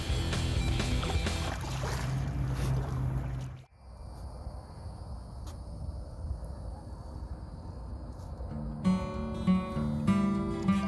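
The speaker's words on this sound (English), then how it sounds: "Just paddling along." Paddle strokes and water movement from a canoe on Florida waters, with a steady wash of noise, a sudden dip partway through, then quieter gurgling and splashing.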